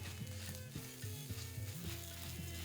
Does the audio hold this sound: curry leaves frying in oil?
yes